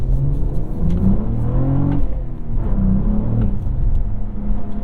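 A 2022 Cadillac CT4-V Blackwing pulls hard in track mode on a snowy road, its engine droning loud and near from inside the cabin, pitch rising through gears with brief dips between shifts.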